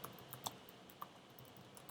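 Quiet typing on a computer keyboard, a few sparse key clicks with one sharper tap, close and faint in an otherwise still room.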